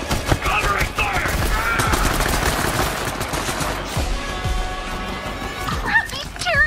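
Rapid gunfire from the video game Borderlands 3 crackles in dense, continuous bursts throughout, loud and close, mixed with character voices shouting over the shooting.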